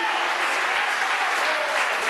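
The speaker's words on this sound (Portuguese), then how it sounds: "Se você crê na palavra de Deus, aplauda o Rei da Glória nesta noite" A church congregation at Ministério Despertar da Fé applauds steadily and densely, a loud unbroken wash of many hands clapping together with no pauses.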